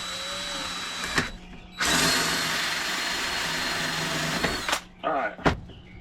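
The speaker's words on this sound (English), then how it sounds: "Got my 3/4 inch hole saw." A 3/4 inch hole saw bores through the top of a panel on a Honda Rancher ATV, a loud steady grinding whir lasting about three seconds, followed by a couple of short bursts.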